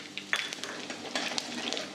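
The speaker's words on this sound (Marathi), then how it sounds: "मोहरी चांगली तडतडली की जिरे" Mustard seeds, cumin and asafoetida crackle and sizzle in hot oil left over from frying brinjals, a soft crackling hiss with sharp pops and a spoon stirring, no voices.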